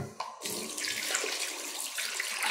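Water runs steadily from a tap for rinsing the face, a close, continuous hissing gush that stays even throughout and plays alone.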